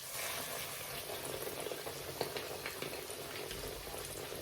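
A breaded pork chop laid into hot oil in a pan, giving a steady crackling sizzle with small popping spatters, fairly soft and even throughout.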